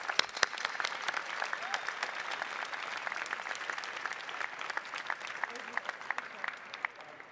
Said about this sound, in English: Please join me in a round of applause for our Master of Science in Information Technology graduates